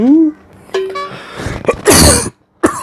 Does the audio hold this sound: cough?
yes